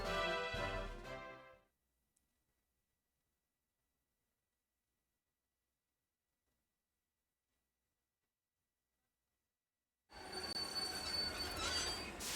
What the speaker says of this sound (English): A flying train.